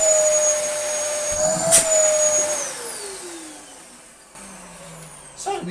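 A Dyson vacuum cleaner runs with suction, its high motor whine steady at first and then dropping in pitch as it winds down, with a short clatter partway through and a brief knock at the end.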